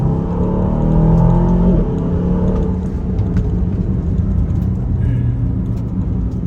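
An Aston Martin DBX 707 sports SUV revs up and pulls away, loud and close, its tone rising in the first couple of seconds before settling into a steady road rumble.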